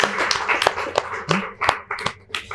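Audience clapping for a participant at a spiritual gathering: scattered, uneven handclaps from a small group, close and moderately loud, with a faint voice underneath.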